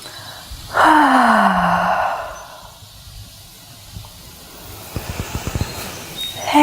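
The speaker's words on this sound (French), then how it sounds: "Laissez un bâillement s'échapper." A loud breathy yawn with a sliding vocal tone during a guided yoga breathing session, followed by quiet soft breathing and a few faint short puffs of air.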